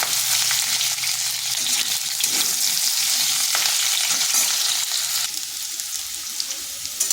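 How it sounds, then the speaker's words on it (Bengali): Loud, steady sizzling of pumpkin pieces frying in a pan, a continuous crackling hiss with occasional stirring, no talking. "প্রথমে কুমড়োগুলোকে একটু ভেজে নেব।"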